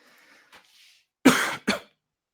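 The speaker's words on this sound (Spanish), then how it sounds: "tengo tos, pero todavía no tengo coronavirus." Two sharp coughs close up, one after the other, following a few faint breathy sounds in a quiet room, during an online class.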